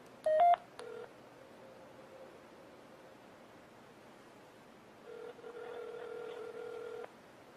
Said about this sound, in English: Just so you can see how it works, we'll place a test call.